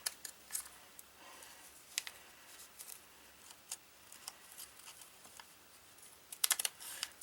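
Scissors cut fabric for a gingerbread man ornament: a quiet room with scattered crisp snips at irregular intervals and a quick cluster of cuts toward the end.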